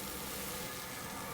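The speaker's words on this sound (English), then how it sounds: "Look at that sizzle." Mushrooms sizzling in hot oil in a pan, a loud, dense, steady hiss and crackle filling a brief moment with no talk.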